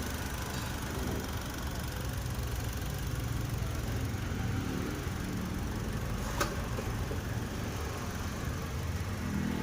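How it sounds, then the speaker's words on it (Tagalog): Low, steady engine idle from a car with shuddering in drive and reverse and a missing third gear, heard inside a transmission repair shop, running continuously at moderate volume with a single brief click. "So ito po yung makina."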